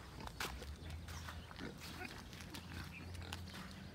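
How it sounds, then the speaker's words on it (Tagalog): Mother pigs with suckling piglets in a large breeding pen, low grunts and snuffling under a faint, noisy barn background, quiet and somewhat distant. "Ayan po ang ating mga mama pig"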